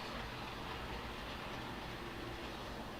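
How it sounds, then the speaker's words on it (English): An O scale model train runs along the track nearby, a steady close rolling rumble with faint rhythmic clicking, continuous and without talk. "And here comes the train."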